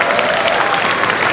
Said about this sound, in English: Big round of applause for Savior.